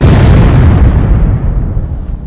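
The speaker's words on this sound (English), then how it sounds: "What about that explosion, eh?" A demolition explosion from earth-moving and demolition work: a loud, deep, rumbling blast that fills the opening and rolls on with a sustained low roar as it slowly fades, with no talk over it.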